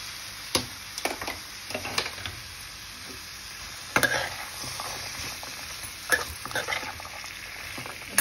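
Pumpkin pieces and chickpeas fry in roasting spices in a pan for a Navratri sabzi, a steady soft sizzle broken by sharp stirring clinks and scrapes of a spoon, close and fairly quiet.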